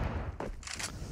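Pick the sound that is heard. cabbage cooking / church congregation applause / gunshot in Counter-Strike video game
gunshot in Counter-Strike video game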